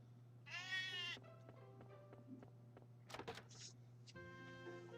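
A single sheep in Harvest Moon: Light of Hope lets out a quiet, wavering bleat over soft game tones and light footstep ticks.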